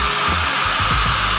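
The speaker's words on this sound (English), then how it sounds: "for this step, I'm gonna borrow my wife's hairdryer" A household hair dryer blows steadily at close range, used to warm and loosen stickers and decals on a bicycle fork, a continuous broadband whoosh with a brief dip mid-way.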